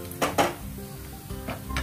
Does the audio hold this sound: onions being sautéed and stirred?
yes